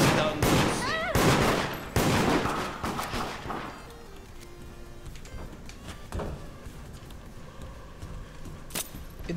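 Rapid gunshots in the multiplayer game Deceit, a loud cluster of sharp cracks and bursts in the first few seconds, then quieter scattered shots and faint background noise, with one more snap near the end.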